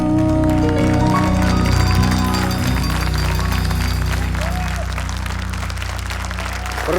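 Audience applause after a live song performance, a dense, loud wash of clapping from a large crowd that holds steady, then gradually thins and fades over several seconds.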